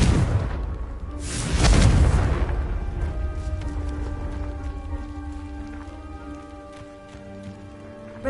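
A Confringo explosive spell goes off in the video game Hogwarts Legacy: a loud, rumbling blast swells for about a second, then decays into a long, ringing tail with lingering tones and no talking.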